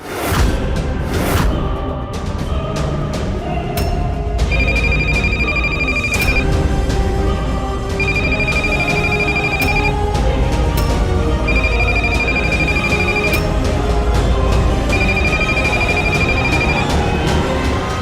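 A phone ringtone plays in repeated bursts of bright electronic tones with short pauses between, loud and close, over some background noise.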